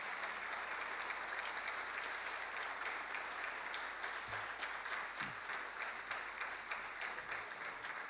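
A crowd at a live music event claps in steady, dense applause that goes on evenly throughout, fairly faint and heard from a distance, with no speech over it.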